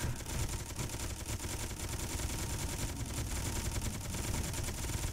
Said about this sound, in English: Gatling guns are going after the asteroids.